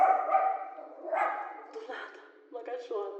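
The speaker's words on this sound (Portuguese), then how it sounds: "Uma cachorra, que é a Ju, que é aqui do alojamento, a gente tem que respeitar." Small dog at a lodging in Foz barking and yipping several times nearby, mixed with a person talking over it.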